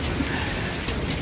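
Heavy rain pours down during a severe storm, a dense, steady hiss of drops with no break, filling the whole moment.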